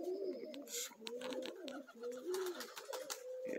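Young Zamojski pigeons at a loft give low, rolling coos in repeated phrases, near and fairly steady, with wing flutters and light movement noises around them.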